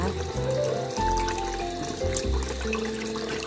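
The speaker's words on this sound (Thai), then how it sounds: "พามาล้าง มาล้างองุ่นค่ะเพื่อนๆจ๋า" Tap water runs steadily into a sink as grapes are rinsed under it, a close and continuous splashing pour with small shifts in flow.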